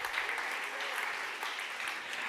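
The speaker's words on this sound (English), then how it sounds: "applause to you" Audience applause at a closing event, a dense continuous wash of clapping at moderate distance with faint voices mixed in.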